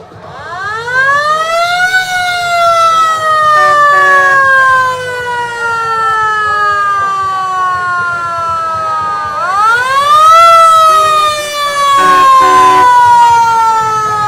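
A fire truck siren wails loudly in a street parade, rising and then falling slowly in two long sweeps, with crowd noise faint underneath.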